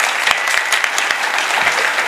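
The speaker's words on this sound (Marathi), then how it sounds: "टाळ्या वाजव त्यांच्याकरता एकदा सर्वांनी." An audience at a kirtan applauds the mridang player with a dense, close burst of clapping that holds steady throughout.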